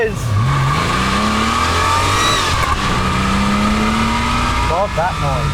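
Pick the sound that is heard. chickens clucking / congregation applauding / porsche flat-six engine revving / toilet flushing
porsche flat-six engine revving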